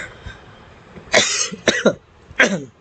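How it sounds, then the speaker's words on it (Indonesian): Three sharp, raspy coughs close by, the first longest, spaced unevenly with short pauses between them. "Batuk."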